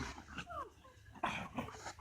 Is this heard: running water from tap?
no